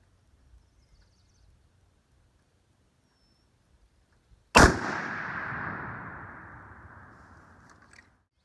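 A single rifle shot, fired with a custom long-range hunting load, cracks sharply after several seconds of near silence. A long rolling echo follows and fades out over about three seconds.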